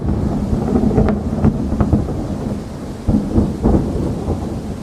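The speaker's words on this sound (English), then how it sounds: "And boy did those thunderstorms hit." A thunderstorm over a garden with a newly built outdoor bar, loud rumbling thunder rolling in repeated surges over a steady wash of heavy rain, close and continuous with no voices.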